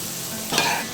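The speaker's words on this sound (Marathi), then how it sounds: "आणि हे चांगलं सगळं व्यवस्थित परतून घ्यायचं आहे" Stuffing mixture with fresh coriander being sautéed and stirred in a pan for stuffed capsicum, giving a short, close scrape and stir over a soft sizzle that swells briefly midway.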